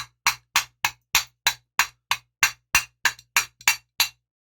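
Hammer tapping on a part of a 26cc marine engine during teardown, about a dozen sharp, evenly spaced metallic strikes, close and distinct with short ringing decays, and no talking.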